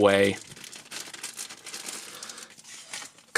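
Plastic packaging holding a model kit's sprues for a Battle B-Daman Black Knight crinkles and tears open, a steady rustle near the mic following a short burst of voice at the start.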